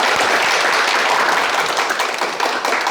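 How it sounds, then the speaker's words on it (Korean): A room full of people at a Deokbun School gathering breaks into loud, sustained applause, a thick wash of overlapping claps that holds steady for the whole stretch. "박수 냈습니다."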